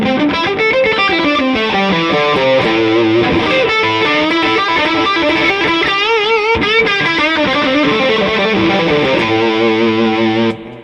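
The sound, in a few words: electric guitar through distortion pedal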